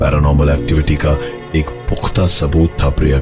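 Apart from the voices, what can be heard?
No everyday noise stands out behind the speech.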